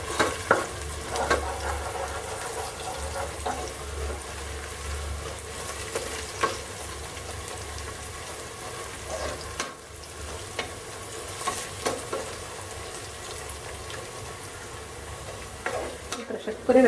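Onions sautéing in a pan with ginger, garlic, green chilli and curry leaves for a Kuttanad-style duck curry, a steady soft sizzle with occasional stirring scrapes and clicks running throughout.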